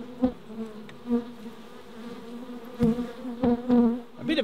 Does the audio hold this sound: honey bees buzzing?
yes